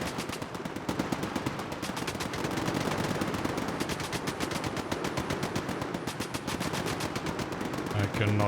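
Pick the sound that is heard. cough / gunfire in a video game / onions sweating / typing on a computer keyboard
gunfire in a video game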